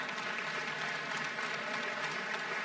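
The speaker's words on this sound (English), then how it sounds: "big round of applause again" Applause from a keynote audience for speaker Dave West at an agility conference, a dense, steady wash of many hands that holds evenly at a moderate distance, with no voices standing out.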